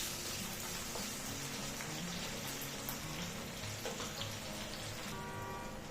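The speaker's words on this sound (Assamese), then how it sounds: "ব্ৰাউন কৰি ভাজি লওঁ।" Potatoes browning in oil in a home kitchen pan make a dense, even crackling sizzle that runs steadily throughout at moderate level, with no voices.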